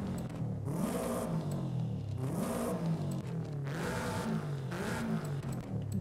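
A tuned Subaru in Forza Horizon 5 revs repeatedly, four rising-and-falling blasts with a raspy exhaust tone, loud and close with no talking.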